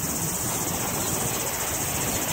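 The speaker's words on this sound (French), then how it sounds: "Oh, j'ai l'impression d'entendre les cigales." Dense, steady insect buzzing, consistent with cicadas, fills the air in Browns Bay, New Zealand; a continuous high shimmering drone without pause, fairly loud and close.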